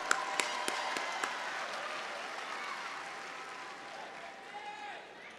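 Graduates applauding at a university commencement ceremony, a broad wash of clapping that starts with a few sharp claps and gradually thins and fades over several seconds, with faint voices mixed in.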